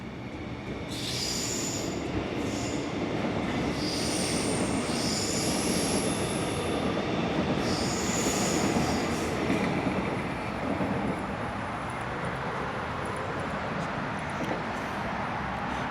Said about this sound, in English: we're just waiting for the next train, and I just heard it departing Nunawadiing station